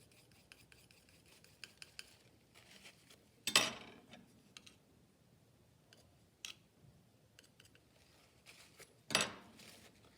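A palette knife scrapes and mixes white and yellow paint on a palette, with soft rubbing strokes, small ticks and a couple of sharper rasping scrapes, quiet and close.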